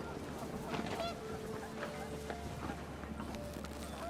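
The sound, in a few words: panicked geese honking in video game What Remains of Edith Finch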